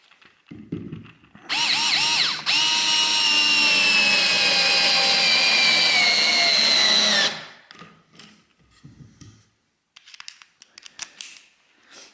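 A Parkside Rapidfire 2.2 cordless screwdriver drives a screw, a loud whining motor that starts with a brief rev, holds steady for about six seconds, then cuts off, with light handling clicks before and after.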